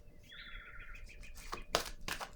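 Small birds chirp and tweet nearby: a sustained trilling call, then several sharp, bright chirps in quick succession, fairly faint against a quiet background.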